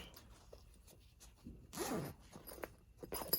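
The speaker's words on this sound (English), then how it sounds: "you can see that I didn't close that zipper up, so I'm gonna be careful as I pull on it" A zipper on a fabric bag is pulled in a couple of short, close rasping strokes, amid quiet handling and rustling.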